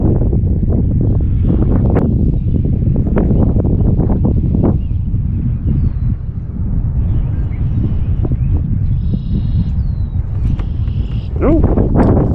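Wind sweeps across a lake around a small fishing boat, a steady, loud broadband rush with gusty buffeting on the microphone that runs unbroken through the whole stretch, with faint knocks and rustles beneath it.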